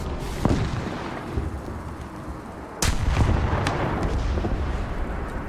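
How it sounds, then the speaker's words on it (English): Loud explosions and gunfire booms in the War Thunder combat game, with blasts turned up, a sharp impact near the start and a heavy burst near the middle followed by sustained rumbling battle noise. "Why are the explosions so loud?"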